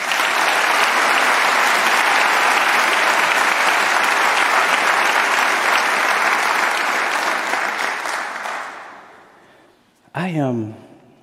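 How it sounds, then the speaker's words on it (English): A large convocation audience at Cal State Fullerton applauds the parents with loud, sustained clapping that holds steady for several seconds, then fades out; a voice begins speaking briefly at the end. "Let's give those parents a round of applause, please."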